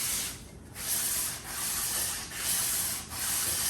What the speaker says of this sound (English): Got fresh piece of sandpaper there. This is still 600 grit.